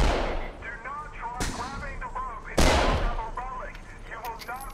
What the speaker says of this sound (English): Like, shoot at the ground.